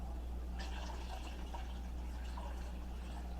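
Water poured into a pan of turkey wing gravy thickened with flour, a soft trickling fill under a low steady background hum, faint and close.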